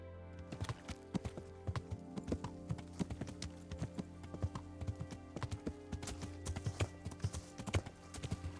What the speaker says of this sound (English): there's all the horses that shouldn't be there